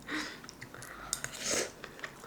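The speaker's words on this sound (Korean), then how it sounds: "밥 천천히 꼭꼭 씹어서 먹고" Someone chews a mouthful of homemade fried rice close to the mic, with soft, irregular moist bites and small crunches over a quiet room, no voices.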